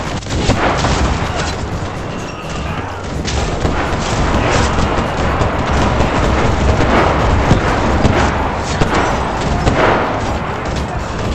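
Bombs and gunfire roar nonstop in the Enlisted battlefield game, a dense, loud barrage of booming blasts and crackling shots filling the whole stretch with no pause.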